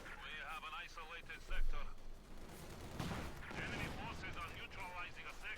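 Gunfire in Company of Heroes 2 as a T-34 tank shells German Grenadiers in a World War II battle, heard as rolling bursts and a booming hit beneath steady commentator talk.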